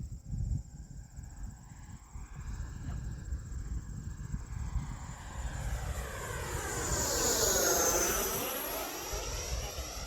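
An E-flite 80mm F-16 RC model jet flies past with a whining ducted-fan roar that swells to a loud close pass, its pitch sweeping downward as it goes by, then fades slightly.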